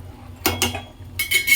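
A metal lid being set back onto a cooking pot of chicken fry on a home stove, two quick clinking clatters early on, then a brighter metallic ring and scrape as it settles, close by with no talk.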